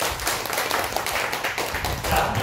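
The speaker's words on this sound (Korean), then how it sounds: "사모님께 경례의 박수 좀 부탁드립니다" A church congregation claps for the pastor's wife, producing dense, continuous applause at moderate volume, with a voice speaking over it.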